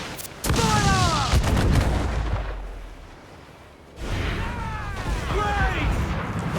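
Ship cannons fire in a naval battle in the video game Assassin's Creed IV Black Flag. Two heavy booming volleys, each followed by rumbling decay and whistling projectile streaks, sound under a game soundtrack and shouted crew voices.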